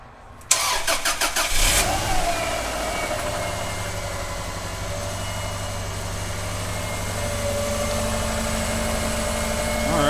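A Subaru Legacy's engine cranks for about a second with rapid starter chugs, then catches and settles into a steady, loud close idle that continues to the end.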